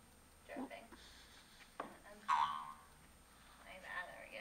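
A cartoon boing sound effect played from a clickable button in a lesson on onomatopoeia, heard as a short springy twang in the middle of the clip, with a voice speaking before and after it.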